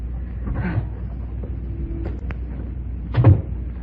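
A key turns in an old door lock with a few sharp metallic clicks and a brief scrape, followed by a heavier latch clunk as the door opens, heard close and alone in a quiet interior.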